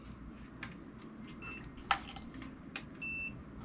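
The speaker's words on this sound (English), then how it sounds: "Wait for the beep. Yep, we made the noise." A multimeter gives one short, faint, steady beep near the end while testing a fuse inside a Nissan LEAF onboard charger, over quiet background handling sounds.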